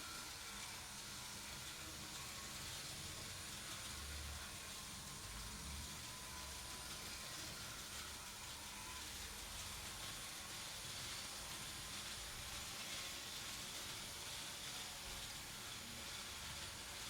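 Faint steady whirring hiss of a Märklin 3325 BB 7200 "Nez Cassé" SNCF model electric locomotive running along the track, an even unbroken mechanical drone with no voices.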